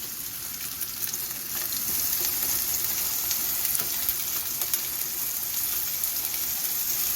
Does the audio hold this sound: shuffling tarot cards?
no